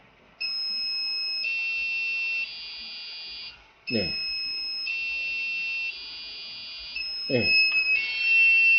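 Arduino D1 board buzzer triggered by a light sensor, sounding a steady high electronic tone in repeating stepped pitch segments, loud and close, with two short thumps and a brief spoken reply.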